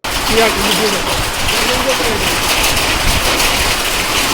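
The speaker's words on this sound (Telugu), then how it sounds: "ద్రోణి ప్రభావంతో కురుస్తున్న ఈ వర్షాలు" Steady heavy rain hisses throughout in Telangana, with a voice talking over the downpour for the first couple of seconds.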